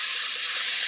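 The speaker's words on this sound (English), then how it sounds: "we're going to add in the water" Water poured into a cooking pan, a steady, loud, hissing rush of liquid running continuously and close by, with no pauses and no talking.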